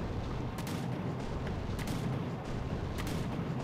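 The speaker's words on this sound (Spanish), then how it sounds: "Es el cañón para destruir el ariete." Cannon in the medieval combat game Warlander on PS5, firing at a battering ram near castle gates: several loud booming shots spaced about a second apart over a steady rumbling battlefield din.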